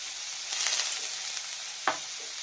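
Cauliflower and paneer fry with salt in a pan, giving a steady close sizzle broken by soft stirring scrapes and one sharp clack near the end, with no voices.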